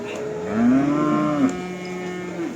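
A young male calf at a cattle market in Tuban lets out a drawn-out moo, then a shorter second call, fairly close and clear against faint background murmur.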